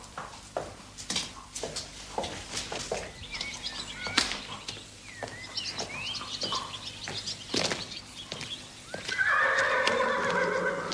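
A horse whinnies loudly in a stable yard while hooves clip-clop on a hard floor. Birds chirp in the background and a bright, drawn-out neigh rises near the end.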